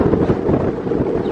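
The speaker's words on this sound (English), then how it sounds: "Absolutely roaring gusts out here" Roaring wind gusts from a hurricane-force blizzard in Regina, a loud, constant buffeting rumble battering the microphone throughout, with no voices heard.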